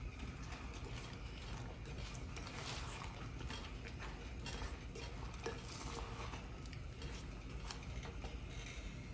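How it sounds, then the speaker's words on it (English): Flour being stirred into apple pie filling in a pot over high heat, a steady close scraping and clattering of utensil against cookware with a bubbling syrupy mix, continuous and fairly loud throughout, no talking. "Add 2 tablespoons of flour and stir."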